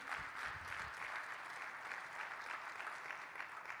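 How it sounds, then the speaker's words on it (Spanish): Church congregation applauding the children's teachers during a Spanish-language sermon, a steady, even wash of many hands clapping at moderate distance, continuous for the whole stretch with no talk over it. "un aplauso a los maestros de niños"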